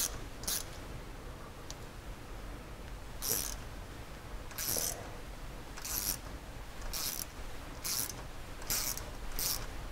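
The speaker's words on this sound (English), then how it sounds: "I'm just gonna take this bolt and just get it going to start that thread." A bolt being hand-started into a thread for a UHMW plastic skid plate on a Polaris RZR 1000 four-seater, giving a series of short, faint metallic clicks and ratcheting scrapes at irregular intervals over low background hum.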